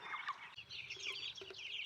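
Chickens in a chicken tractor on a farm cluck and chirp softly, a few overlapping calls close by in a quiet setting.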